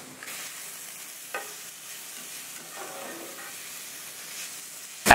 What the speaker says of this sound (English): Add one chopped onion. Sauté for 5 to 6 minutes